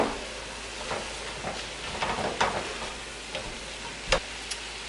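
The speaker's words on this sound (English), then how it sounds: "Stir those up." Onions are stirred in a pot while frying for venison chili, giving a soft, fairly faint sizzle broken by a few scattered spoon scrapes and taps.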